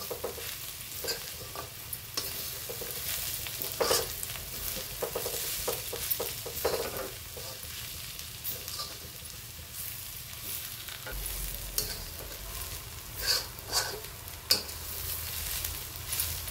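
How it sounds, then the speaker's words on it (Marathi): Coarsely crushed peanuts are roasted in a pan for chutney, with a continuous dry frying hiss and frequent scraping stirs that come in irregular bursts. "चांगले शेंगदाणे भाजून घ्यायचे मस्त खरपूस"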